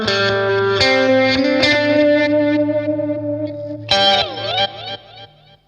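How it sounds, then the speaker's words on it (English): Electric guitar notes played through a BOSS Katana 50 MKI amp with a delay effect, each plucked note trailing repeating echoes that smear together and fade out at the end. "Sounds like analog delay to me. Reverse maybe?"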